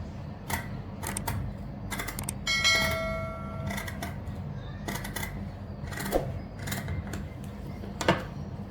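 Scissors cut a blouse neckline through fabric in a series of short, crisp snips at an uneven rhythm, close and clear with a brief metallic ringing in the middle.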